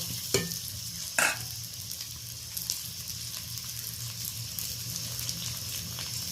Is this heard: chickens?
no